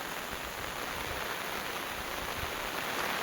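Steady rain falls on surfaces in a rural Konkan village, a soft, even wash of drops with no other sounds.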